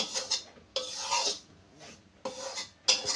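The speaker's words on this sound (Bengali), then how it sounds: "এবার বেশ ভালো করে আমি একটু ভেজে নেব সুজি আর ময়দা।" Semolina and flour dry-roasting in a pan, a utensil scraping and rasping through the dry mix in several separate bursts with short pauses between, close and moderately loud.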